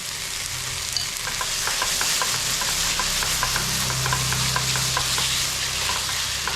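Red chili spice paste made from boiled chilies poured bit by bit into a pan of rendang, giving a loud, steady close sizzle with rapid bubbling crackle and occasional stirring scrapes.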